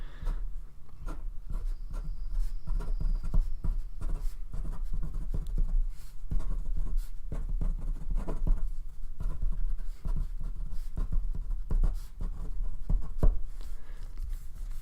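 A fountain pen with a scratchy nib drags across paper in continuous writing strokes, a close, dry scraping texture with frequent short ticks and pauses between letters, heard alone without talk.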